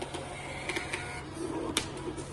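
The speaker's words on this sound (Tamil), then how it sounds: "ஸோ இதை ஒரு ஆட்டோ கட்டரோட வந்துடும், இன்பில்ட் கட்டர் பிரிண்டரோட வந்துடும்." A billing-machine thermal printer with a built-in auto cutter prints a receipt, giving a close, steady whirring buzz with small ticks and a sharp click near the end.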